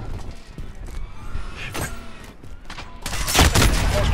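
Pistol shots ring out in a video game, a few sharp cracks among clattering mechanical game sounds, ending in a louder flurry of bangs.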